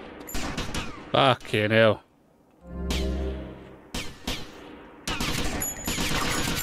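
Gunfire in GTA Vice City crackles in loud, rough bursts, broken by a stretch of steadier rumble. An exclamation and other voices are heard around the shots.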